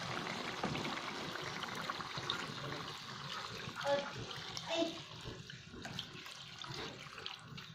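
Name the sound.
water poured into pan while cooking tuna stir-fry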